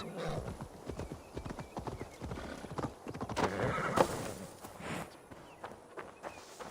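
A horse in Assassin's Creed Valhalla clip-clops along with steady hoofbeats, then lets out a loud neigh partway through, game ambience underneath and hooves continuing after, moderately quiet overall.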